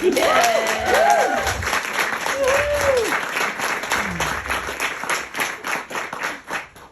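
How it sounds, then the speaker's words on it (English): Audience applause at a storytelling talks event, a steady wash of clapping from a crowd that tapers off over several seconds, with a voice speaking briefly over the start. "let's start by giving another clap to everyone"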